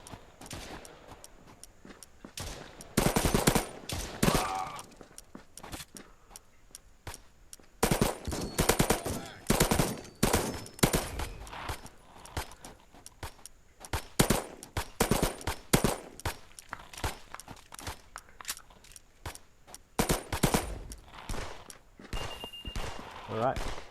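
Rapid bursts of gunfire from the VR shooter Contractors VR on Oculus Quest 2, sharp repeated shots in clusters across the whole stretch, loud and close, with someone talking at times between the volleys.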